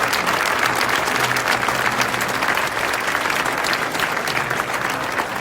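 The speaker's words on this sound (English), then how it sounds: "Let's also give a warm round of applause to the high school faculty members" Audience applause at a school moving-up ceremony, steady dense clapping from a large crowd that holds throughout without a break.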